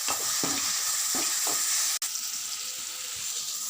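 Tomatoes with turmeric powder fry in a pan with a steady broadband sizzle, stirred a few times with soft scraping strokes, close and fairly loud with no talking.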